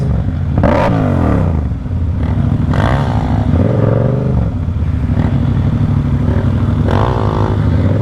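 A 150F motorcycle revving hard as a rider attempts a wheelie, the engine rising and falling in several loud, close throttle bursts with a steady idle beneath.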